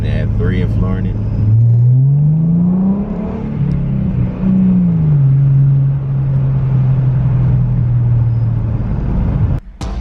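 A Ford Mustang running an SCT X4 tune accelerates in first gear, its engine droning loud and close as the pitch climbs, dips and levels off over several seconds, ending in a brief clatter.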